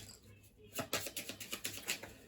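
Forbidden Desert board game cards are shuffled by hand in a run of quick, crisp riffling slaps after a quiet start, close and moderately loud.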